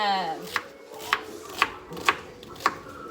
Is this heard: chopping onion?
yes